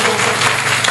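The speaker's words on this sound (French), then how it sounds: "Et tu peux acclamer pour la gloire de Dieu." A church congregation breaks into applause during a worship service, a dense, steady wash of clapping filling the short moment at an even level.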